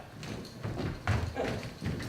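Horses' hooves clip-clop in a steady, uneven rhythm on a hard surface for a stage production of King Lear, moderately close and continuous, with no voices over them.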